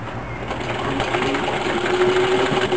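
A sewing machine stitches Velcro into the seam of a fabric bread and snack bag, running at a steady, continuous mechanical hum with a faint rhythmic chatter throughout.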